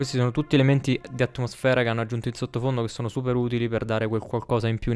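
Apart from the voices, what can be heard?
None of the usual background noises is heard.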